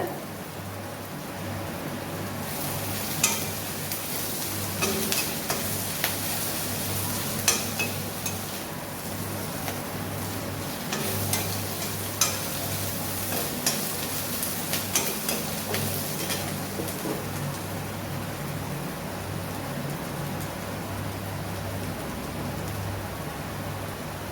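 Onions sautéing in a pan with a pinch of salt while making idli upma, a steady soft sizzle with scattered light ticks and stirring scrapes over a low background hum, no voices.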